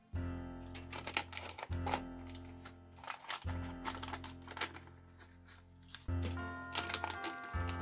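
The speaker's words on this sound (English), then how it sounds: "let me unwrap it" A Christmas fruit cake is unwrapped by hand, with crisp crackling and rustling of wrapping in bursts separated by brief pauses, close and moderately loud.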